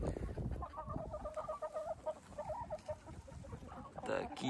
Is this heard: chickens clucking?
yes